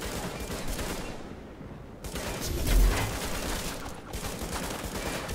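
Sustained bursts of automatic gunfire from The Division online co-op game, dense rapid volleys that rise in intensity midway and briefly drop out before resuming, with no talk over them.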